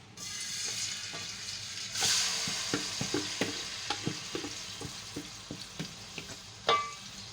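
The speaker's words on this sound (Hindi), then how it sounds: "ये मैं इसको तेल में डाल दूँगी।" Marinated chicken for balti frying in oil, a continuous crackling sizzle that swells as the pieces go in, with a series of regular stirring knocks and scrapes against the pan, close and fairly quiet, no speech.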